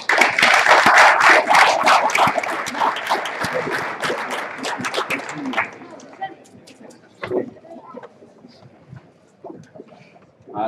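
An audience claps loudly at a maker event for line-following robots, the applause strong at first and thinning out after about five seconds into scattered claps and a murmuring crowd.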